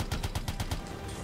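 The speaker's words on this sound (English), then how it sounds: "this game has full auto snipers" Full-auto sniper rifle fire in the Anthem video game: six sharp, evenly spaced shots in a rapid burst over the first second, then a quieter tail of game ambience.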